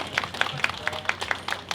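Audience applause for a band after a live outdoor concert in Uijeongbu: a steady spatter of clapping with repeated sharp hand claps in an even rhythm, moderately distant and fairly soft, with no talk.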